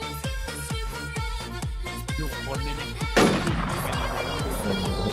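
Gunfire rings out in the video game Infestation: a rapid, rhythmic series of loud booming shots with ringing decay, then a heavier burst that leaves a sustained noisy wash.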